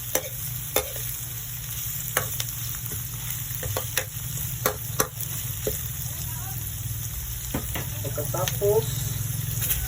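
Stirring escabeche in a frying pan, with a soft sizzle beneath sharp, intermittent utensil scrapes and clinks against the pan, all heard close up.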